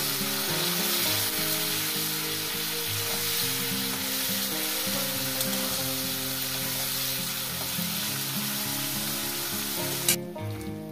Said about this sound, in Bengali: দেখতেই পাচ্ছেন আমি কি করে মাছটাকে ভেজে নিচ্ছি